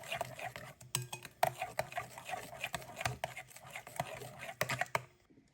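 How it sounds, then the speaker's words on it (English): A utensil scrapes and taps in a bowl, mixing banana fritter batter with six tablespoons of sugar. The quick irregular stirring clicks sound close and fairly quiet, then stop near the end. "And now we mix"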